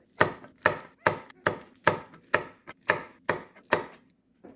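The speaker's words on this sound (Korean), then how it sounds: "청양고추는 크기가 작으니까 그냥 이렇게 어슷어슷하게 썰어주면 됩니다." Knife slicing small cheongyang chili peppers diagonally on a cutting board, about nine crisp, evenly spaced chops in steady rhythm, close and clear with no talking.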